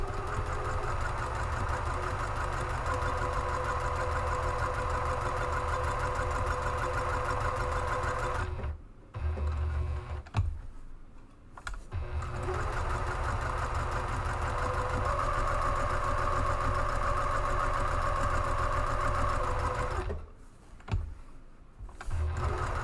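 Close, steady whirring of a sewing machine stitching 7.5-inch squares of Waverly home decor fabric without interfacing, running continuously for long stretches with two brief pauses and handling sounds between runs.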